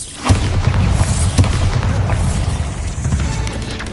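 A Bombarda spell explodes in Hogwarts Legacy with a sharp, loud boom, followed by a rumbling, crackling blast that fades slowly over several seconds, with no talk over it.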